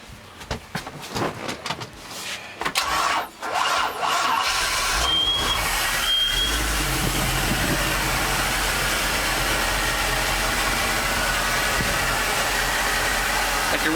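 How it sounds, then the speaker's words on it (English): A 1999 Donzi 2750 LXC boat engine cranks with some clattering and sputters, then catches and settles into a loud, steady idle rumble that continues without a break. "do you mind giving our audience a little demo of how the engine sounds?"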